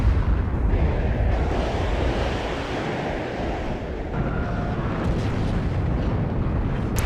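Grad rocket artillery strikes exploding in the real-time strategy video game WARNO form a continuous, heavy roar of rumbling blasts that sounds like surf, loud and steady throughout, with a few sharper impacts near the end.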